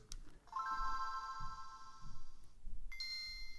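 A thin Game Boy Advance startup chime plays faintly through the stock speaker over background noise, then a brief second tone follows, quieter and tinnier than a full speaker.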